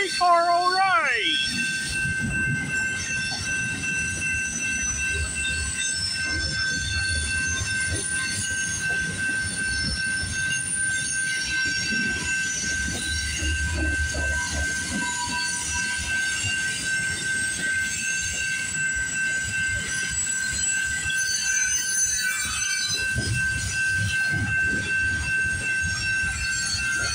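A streetcar rolls steadily along the tracks with a constant rumble, a sustained high metallic wheel squeal ringing over it throughout.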